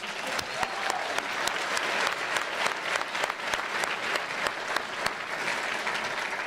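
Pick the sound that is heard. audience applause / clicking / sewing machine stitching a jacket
audience applause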